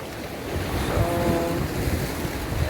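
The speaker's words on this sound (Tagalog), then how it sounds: "At ayan naman ang dagat. Dagat lang." Sea waves wash against a rocky shore at Maragondon Sanctuary, a dense, steady roar mixed with wind buffeting the microphone, loud and continuous with no clear individual breakers.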